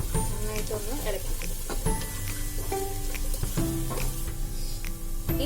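Cabbage manchurian with green spring onion is stir-fried in a hot pan, giving a steady sizzle broken by a few louder scrapes and knocks of a spatula, close up and continuous.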